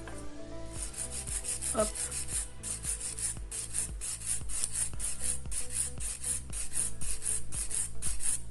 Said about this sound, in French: je place mon doigt comme ceci pour venir limer le bout de mon ongle pour que ce soit bien droit